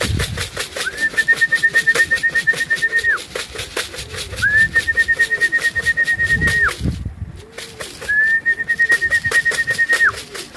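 Racing pigeons coo softly in repeated low, rolling pulses at a loft in England, with a steady whistle rising three times over a rhythmic background clatter.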